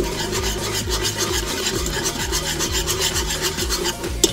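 Thickening steak soup being stirred in a pot, a loud continuous scraping and rubbing of a utensil against the pot bottom in quick repeated strokes, close and alone without talk.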